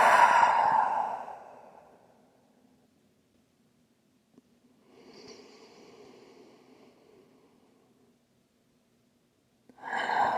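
Slow, deep breathing during a wide-legged child's pose in a quiet room: a long, audible exhale, then a soft, faint inhale, then the start of another strong breath. No one speaks.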